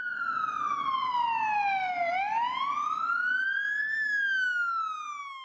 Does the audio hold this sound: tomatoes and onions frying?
no